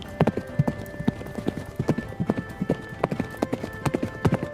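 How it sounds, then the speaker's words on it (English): Horse hooves pounding turf, a rapid irregular clip-clop of galloping strides, fairly close and distinct against a quiet background with a faint steady tone. "8 racing hoofs, like smashing plates and crashing gongs, churned up the green turf with the fury of a typhoon."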